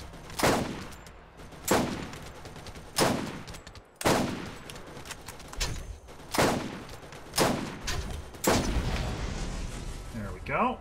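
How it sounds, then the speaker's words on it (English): Sniper rifle shots fired at a turret in the video game Borderlands, eight loud, sharp blasts spaced about a second and a half apart, each with a short echoing tail, with no talking. "I was using a sniper rifle to deal with it."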